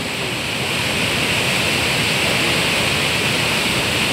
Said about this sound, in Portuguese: Rio Piranha descendo com bastante água para a barragem Armando Ribeiro Gonçalves